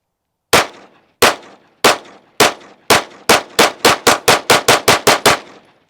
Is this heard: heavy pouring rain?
no